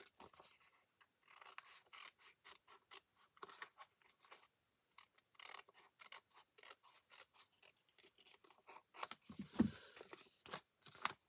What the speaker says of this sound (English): And then I'm just going to trim that around.